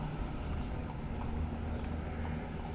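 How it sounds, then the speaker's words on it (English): Hooves of a horse-drawn buggy taxi clip-clop in a steady rhythm on a Varadero street, moderately near amid faint traffic and street ambience. "Horse buggies."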